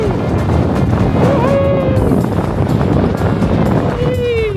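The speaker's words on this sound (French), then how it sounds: "Y'a du vent au fond là, y'a du vent." Strong wind buffets the microphone in a loud, continuous roar outdoors, with voices speaking over the gusts.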